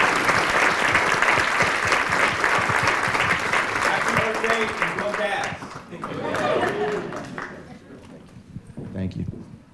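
A crowd applauding for the mayor at an environment event in Cleveland, loud sustained clapping that gives way midway to a voice speaking, with scattered clapping continuing faintly beneath.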